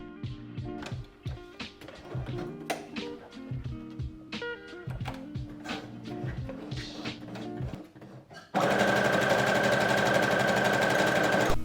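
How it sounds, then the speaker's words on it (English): A sewing machine zigzag stitching a button in place on a Chanel-style dress with the feed dogs lowered, a close, steady mechanical whirr that turns into a louder, even, continuous buzz near the end, with no talking. "went over to the back of the machine to lower down the feed dogs so that the button stays put while I zigzag it in place"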